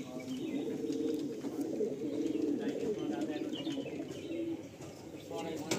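Pigeons at a sale coo in low, repeated throaty calls, several birds overlapping near and close, while people talk over them.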